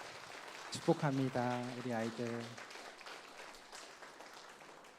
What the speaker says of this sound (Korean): 우리 크게 한번 박수 한번 해줄까요?